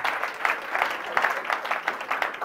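A church congregation applauds at a prayer vigil, a dense, steady patter of many hands clapping together throughout, close and fairly loud with no pauses.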